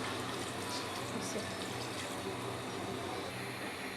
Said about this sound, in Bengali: এই যে মাইখা পানি দিয়ে দিলাম কষানোর জন্য।